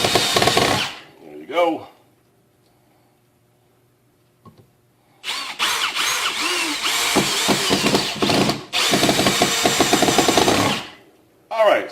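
A Milwaukee M18 hammer drill drives screws into knotty wood in loud bursts of whirring and grinding, with a few short gaps between them and a brief spoken remark before the drilling.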